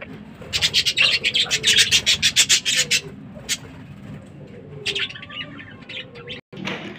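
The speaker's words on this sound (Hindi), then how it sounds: "फ्रेंड ये मारे तोते हैं, आप देख सकते हैं।" Pet parrots kept alongside pigeons and chickens give a burst of loud, rapid chirps in the first few seconds, then quieter scattered calls and rustling nearby.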